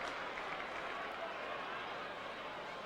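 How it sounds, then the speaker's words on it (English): Steady crowd applause from Australian football supporters at a 1990 Footscray versus Collingwood match, a broad continuous wash of clapping and cheering with a commentator's voice running over it. "they're getting the applause of their supporters for that effort"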